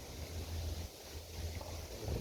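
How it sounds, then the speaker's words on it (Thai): Wind gusting over a small boat on a natural canal, a steady low rumble and buffeting roar of wind noise on the microphone throughout, with faint hiss above and no talking. "ลมมาแล้วครับ ต้องตีสวนลมครับตอนนี้"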